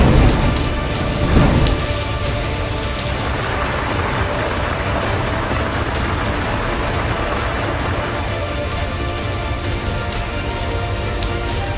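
Heavy monsoon rain pours down in a dense, steady roar across many states, with a low rumble of thunder near the start and no voices.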